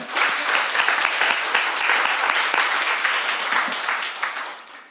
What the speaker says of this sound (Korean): 예배 시간이지만 박수 한번 칩시다